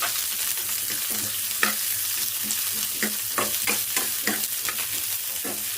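Sliced onion fries in hot oil in a pan, crackling steadily under a series of clear stirring scrapes that come at irregular intervals, close and fairly loud, with nobody speaking.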